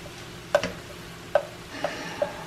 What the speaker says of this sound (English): We're gonna add our shrimp